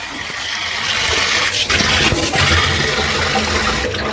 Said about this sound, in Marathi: असंच मी या चाळणीने अजून एकदा हे गहू धुवून घेते असं